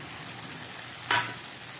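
Onion cooks with spices and garlic water in a pan, a quiet, low sizzle broken by one short, sharp spatter burst near the end.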